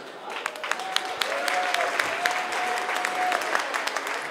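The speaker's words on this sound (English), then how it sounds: "Let's give a quick round of applause for the fighters." A crowd at a fight event applauds steadily for several seconds for the fighters, dense clapping with a faint whistle-like tone running through, no voices.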